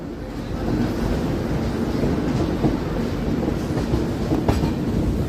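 A Humsafar Express passenger train runs through Anakapalli railway station with a loud steady rumble and rhythmic clickety-clack of wheels over rail joints, a few sharper knocks standing out.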